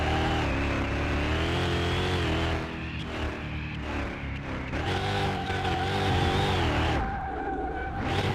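A car drifts in the Car Mechanic Simulator 2021 video game, its engine droning loud and continuous while tires squeal in long, wavering tones that shift in pitch through the slide.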